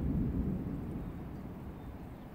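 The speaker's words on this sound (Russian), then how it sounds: "Вдалеке гром гремит" Distant thunder on a calm spring day after a storm, a low, steady, faint rumble rolling on without breaks or talk.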